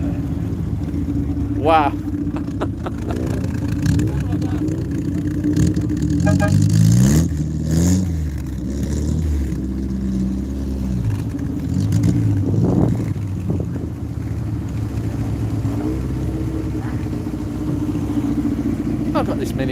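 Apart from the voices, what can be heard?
cars racing and revving at a car meet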